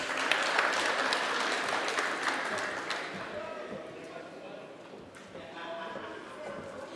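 Round of applause from an audience at a transport-sector meeting, a dense clatter of clapping that is loudest at first and thins out, with voices murmuring underneath.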